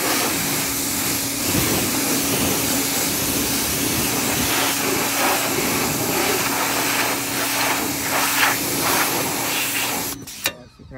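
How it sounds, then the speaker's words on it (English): Pressure washer spraying water over vehicles, a loud, steady, close hiss with a constant mechanical hum underneath, running without pause for about ten seconds before cutting off. "got pressure washer."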